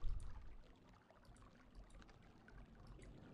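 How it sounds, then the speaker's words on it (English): Water trickles quietly in the video game Myst, a soft, continuous pouring flow at low level, with no talking over it. "And we have trickling water."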